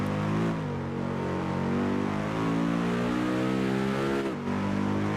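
A V10 car engine in the video game Test Drive Unlimited 2 revs continuously with rising and falling harmonic pitch, a high-revving multi-cylinder whine, loud and close, briefly dipping before climbing again.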